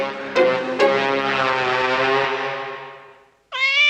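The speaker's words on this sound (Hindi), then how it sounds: "बिल्ली तुम्हारे घर में घुसकर आती है और तुम्हें डराती है" A loud, drawn-out cat meow that slowly fades, then a second meow starts abruptly right after a brief pause.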